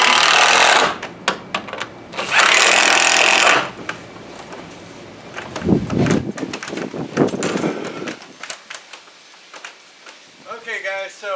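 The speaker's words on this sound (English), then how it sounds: "Tighten this side back up." Bolts are tightened on a wooden swing set with a power tool: two long, loud bursts of driving, then scattered knocks and handling sounds of wood and hardware, with a voice speaking near the end.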